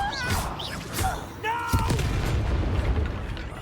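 A Confringo spell blast in the video game Hogwarts Legacy lands as one heavy boom partway through, amid combat noise and a speaking voice.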